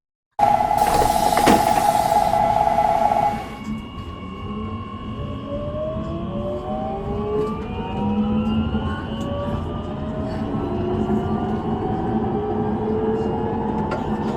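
A Neon tourist train rolls through a Minecraft city-building world, its motor giving a steady, close, rising whine that climbs in pitch as it picks up speed, with a brief tonal chime at the start.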